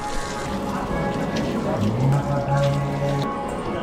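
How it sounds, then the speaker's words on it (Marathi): Tap water runs steadily at an outdoor drinking-water tap near a temple in Ganpatipule, Ratnagiri, as someone washes their feet under it, a continuous close splashing flow with a voice over it. "मी पण पाय धुवून घेतो आता"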